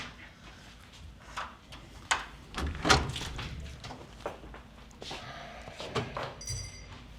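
Clunks, a latch rattle and a sharper bang as a door is worked open, scattered over several seconds close by, with a faint ring near the end.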